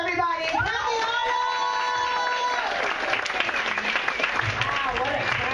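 An audience at a comedy club breaks into loud, sustained applause and cheers welcoming a comedian to the stage, a dense wash of clapping under the host's amplified voice.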